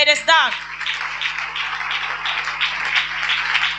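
A congregation at a week-long prayer meeting applauds and cheers loudly, forming a dense, continuous wash of clapping and shouting that follows a brief voice at the start.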